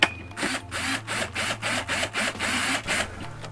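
Power driver screwing an overhead storage cupboard frame into a camper van, a steady run of rapid repeating mechanical pulses with a low motor hum, close and fairly loud, no talk.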